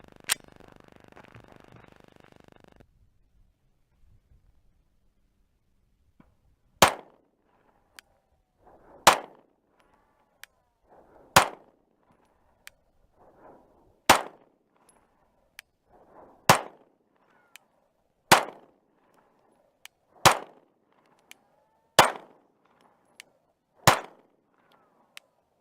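An FMK C91 Gen 2 pistol test-firing outdoors, with about ten sharp gunshots spaced a couple of seconds apart after a quiet lead-in. The shots are loud and close with brief echoes and no talk between them.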